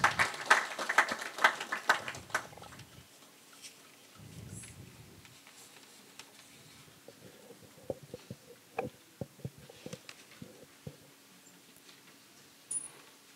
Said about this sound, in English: Another applause for the chief guest